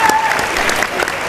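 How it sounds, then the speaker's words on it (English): A panel-discussion audience breaks into loud, dense applause for a speaker; a brief burst of many hands clapping close by, with a faint voice mixed in. "Let's give a round of applause for her"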